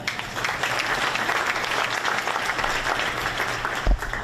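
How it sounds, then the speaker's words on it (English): An audience at the Gadsden State of the City address gives sustained applause, a dense wash of many hands clapping that holds steady throughout, with a brief low thump near the end. "Give yourself a clap."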